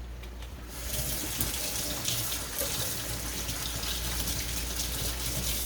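Tap water gushes steadily into a kitchen sink to rinse red beans, starting after a brief quiet moment and then running continuously and fairly loud, with no talking.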